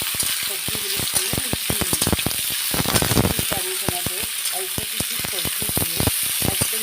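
Pumpkin, pointed gourd, ridge gourd and potato fry in oil with panch phoron and green chilies, a loud steady sizzle cut by fast, repeated sharp clicks of a spatula stirring against the pan.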